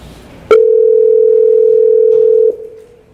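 A telephone dial tone sounds during a call attempt in a council meeting, one steady loud tone running about two seconds, then cutting off into quiet.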